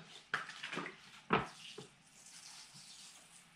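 Water poured into a small bonsai seed pot, giving soft splashing bursts with a couple of sharper pours, quiet and close, followed by faint trickling.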